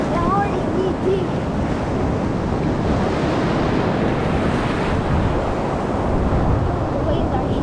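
Huge ocean surf, five to eight feet, roars continuously up close as waves break and churn, mixed with heavy wind buffeting on the microphone.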